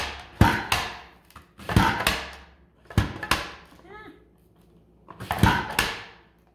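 Large onion being sliced on a Pampered Chef Rapid Prep Mandoline set to 6 without the guard, making four sharp, loud slicing strokes with clacking, spaced about a second apart, and a brief faint squeak in between.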